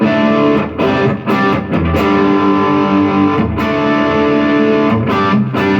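Loud, sustained distorted electric guitar chords ringing out through a Blackstar HT5 tube mini stack amp, with a washy reverberant tail and brief gaps between strums.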